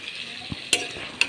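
Pumpkin and chicken sizzling steadily in a pan, with a couple of quick scraping stirs and light clinks of a utensil against the pan, close up and alone.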